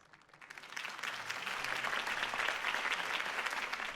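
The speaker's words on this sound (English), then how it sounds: "could have heard that applause" A crowd bursts into sustained, loud applause after a campaign speech in the Batman Telltale video game, swelling quickly and holding steady throughout.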